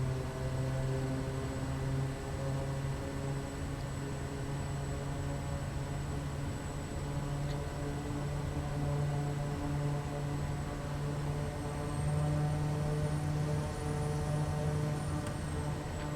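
A Kodiak 100 single-propeller bush plane on takeoff in Papua New Guinea holds its engine at high idle, giving a steady, droning turbine and propeller hum. The sound stays even and moderately loud throughout, heard from inside the cabin with no talking.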